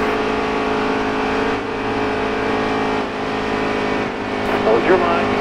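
Race car engines in the video game NASCAR Heat 3, a steady buzzing drone with shifts as cars run close together, under a voice giving spotter calls.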